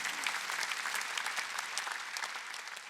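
A church congregation at a Sunday service claps together in a steady, even patter, fairly faint and at some distance, with no voices over it.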